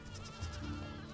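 A goat bleats in Medieval Dynasty, a single short wavering call, fairly faint and brief.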